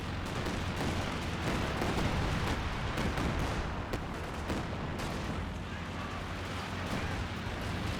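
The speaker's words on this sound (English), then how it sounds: "Here comes Clive here, rocket barrage." A rocket barrage in Company of Heroes 2 rolls on as a continuous dense roar of blasts and impacts, loud and sustained, with game battle noise throughout and a commentator's voice faintly beneath.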